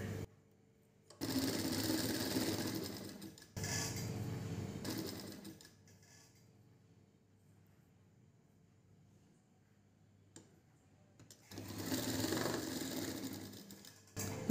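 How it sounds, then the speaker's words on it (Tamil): A sewing machine runs a half-inch seam across a blouse shoulder in a tailoring class, stitching in two loud sustained bursts with a quiet pause between them. "இப்போ ஷோல்டரை சரியாக வச்சு ஒரு அரை இன்ச்சுக்கு ஒரு தையலை போட்டுடலாம்"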